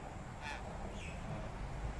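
A hill myna, a talking bird, gives two brief, faint calls that sit low under a steady wash of outdoor background noise.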